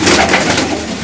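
Pigeons kept by a pigeon fancier coo loudly and close by in a brief, continuous stretch of low throaty calling.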